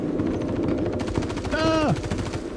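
Rapid automatic gunfire in the Star Citizen game, loud, close bursts of fast shots with a brief rising whine partway through.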